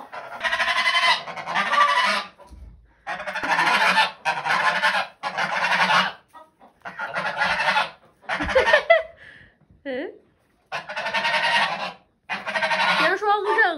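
Curly-feathered geese hatched this spring honk on a farm in loud, close bursts of repeated nasal calls separated by short pauses, with a few higher squeaky notes in between.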